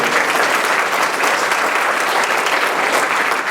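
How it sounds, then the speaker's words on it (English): An audience at a public history program on the Civilian Conservation Corps in Iowa claps in a dense, steady round of applause that fills the whole moment at close, even volume. "Everybody give Kathy a round of applause."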